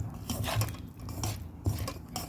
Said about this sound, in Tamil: முட்டையை மிக்ஸ் பண்ணிடலாம் நண்பா